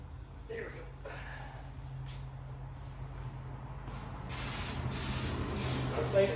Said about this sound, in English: gonna give her a dose of good old brake clean